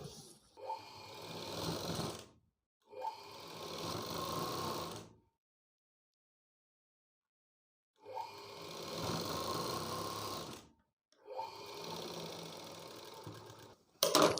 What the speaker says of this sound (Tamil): இது மேலே இன்னொரு தையல் போட்டு வந்துடுறேன்.